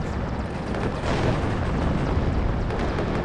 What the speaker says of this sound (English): getting another artillery strike. Ooh, cluster.